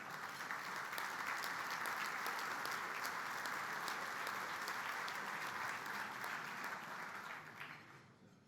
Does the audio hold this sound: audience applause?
yes